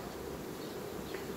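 Honey bees buzz in a dense, steady drone around a queen cage inside a hive whose colony is in swarming fever, the sound close and continuous for the whole short stretch with no voices.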